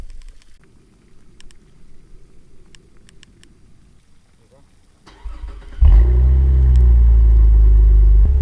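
A Cadillac ATS-V is started with the key: after quiet cabin rustles and a few clicks, the starter catches and the engine fires into a loud, deep, steady idle close by.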